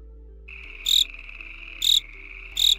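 Cricket chirp sound effect: three evenly spaced bright chirps over a steady high insect drone, clean and isolated with no talk.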